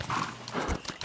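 Horse hooves clip-clop in a quick rhythmic gait while riding a mount in The Elder Scrolls Online, close and clear over a short stretch, with no talking.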